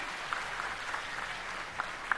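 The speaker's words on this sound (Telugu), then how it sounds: "ఆయన గట్టిగా చప్పట్లు కొట్టి అభినందించండి" A crowd of attendees at a parent-teacher meeting event claps together in a steady, dense patter, with a few sharper individual claps standing out near the front, moderately faint and unbroken.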